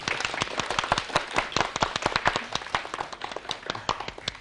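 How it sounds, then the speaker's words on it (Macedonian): A studio audience at a TV quiz show breaks into sustained applause to welcome the contestants, a dense, even patter of many hands clapping for several seconds. "на почетокот на квизот да ги поздравиме со еден аплауз"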